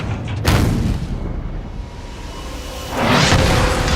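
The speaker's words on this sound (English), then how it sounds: "The shells slam directly into the forecastle in a brutal strike." Four-inch naval gun shells strike the forecastle of the German submarine U-405 with heavy booming impacts. A loud blast is followed by a rumbling tail and then a second surging roar of debris and smoke.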